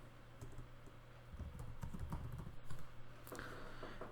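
Quiet, close typing on a computer keyboard while a first name is entered, a short run of soft, irregular key clicks with no talking.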